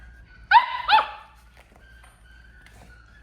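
Two sharp, high-pitched barks from a merle Doodle puppy ring out close by in quick succession, then quiet with faint background noise.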